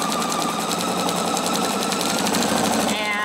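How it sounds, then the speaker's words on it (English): A PFAFF Expression 710 sewing machine stitches steadily, a loud, fast, even rhythmic chatter of the needle that runs without pause, winding down near the end. "I'm going to just sew."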